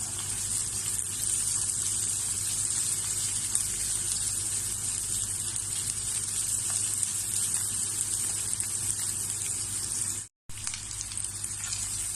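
Chopped onions fry in a pan as the base for chicken Bicol express, a steady quiet sizzle with a faint hiss running continuously, broken by one brief silent gap near the end.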